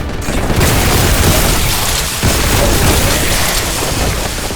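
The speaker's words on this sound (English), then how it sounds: "This is the multi-melta gun." Twin-barreled multi-melta gun firing in the retro shooter Boltgun: Forges of Corruption, a loud, continuous roar of booming blasts that fills the whole stretch without letup and with no voices.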